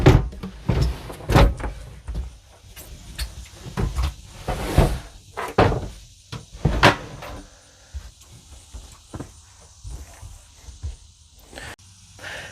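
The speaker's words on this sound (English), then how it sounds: "Simply lift the entire cabinet assembly off." A camper galley cabinet assembly on a 2025 Deneb XT modular camper is lifted off, giving a series of loud knocks, thumps and cabinet-like bangs at irregular intervals, close by, with no talking.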